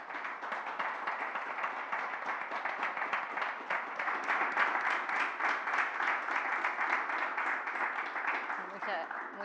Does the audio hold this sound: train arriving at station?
no